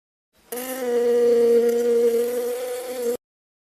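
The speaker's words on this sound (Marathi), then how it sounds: "मधमाशी, बी." A honey bee buzzes loudly and close for about three seconds, a steady droning hum that starts and stops abruptly, with no other sound around it.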